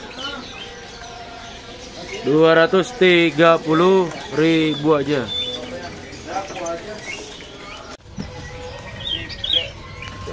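A Bali oriole (kepodang Bali) at a bird market kiosk gives faint, scattered calls and chirps behind someone talking close by, with the birdsong clearest near the end.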